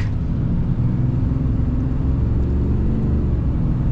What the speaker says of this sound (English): full-blown acceleration and see if this is quick